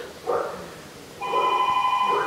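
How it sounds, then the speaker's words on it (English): An electronic doorbell or phone-like bell rings at home, a steady sustained chime tone starting partway through and continuing to the end, fairly loud and close, with faint indoor background. "Is that us? Somebody ringing at our door?"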